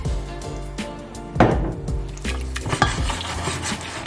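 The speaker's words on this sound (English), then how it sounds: "Give that a really good stir." A spoon stirs piri piri chicken wing marinade with vinegar and chopped parsley, giving wet scraping swirls and a few sharp clinks against the container over a faint sizzle-like hiss.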